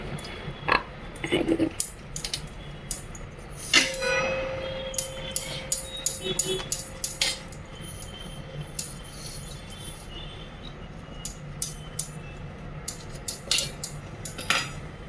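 Knife cutting through a freshly baked coconut pitha cake, with light scraping and clinking of blade and dish in a quiet kitchen, brief taps scattered throughout, plus a soft background hum.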